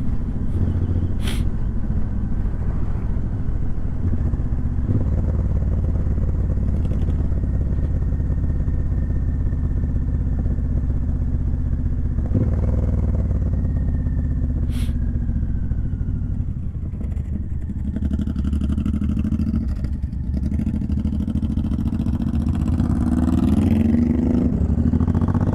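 Suzuki M109R motorcycle riding in 24-degree cold weather, a steady loud low engine drone with wind rush throughout, slight dips and a rising rev toward the end, no voices.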